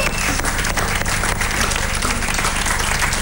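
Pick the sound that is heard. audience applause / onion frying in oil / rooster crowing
audience applause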